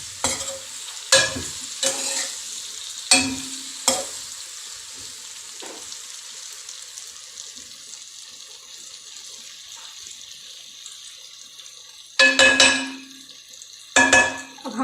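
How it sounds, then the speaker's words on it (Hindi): Sliced okra sizzles and fries in oil in a pan as a spoon stirs it, with sharp scraping strokes at the start, a quieter steady sizzle in the middle and more stirring scrapes near the end. "मिक्स करने के बाद इसको थोड़ा चला लेते हैं ताकि सारी जो भिंडी है वो ऑयल में हो जाए हमारी।"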